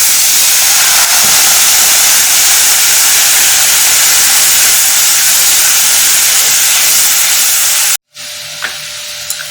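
Water poured onto ground cumin, coriander and chili powder in a hot wok for a paneer curry sets off a loud, steady hissing sizzle for about eight seconds, then cuts off abruptly to near quiet.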